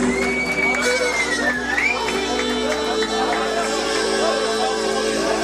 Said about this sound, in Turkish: Alkışlar alkışlar gelsin pasta için.